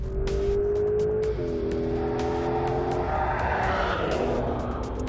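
A Porsche 911 GTS T-Hybrid accelerates on a track, its engine note climbing through a strong rising whine and then dropping at a gear change. The sound is fairly close and continuous, with no speech.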